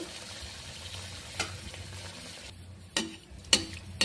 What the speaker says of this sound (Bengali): তেল আমার গরম হয়ে গিয়েছে এবার এর মধ্যে আমি মালপোয়াটা দিয়ে দিব